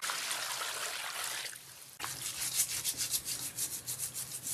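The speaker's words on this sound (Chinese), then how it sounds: "撩好毛，洗一下。" Lamb trotters are scrubbed and rubbed by hand in water, giving close, continuous splashing and swishing with a brief pause before the rhythmic washing resumes, with no talk.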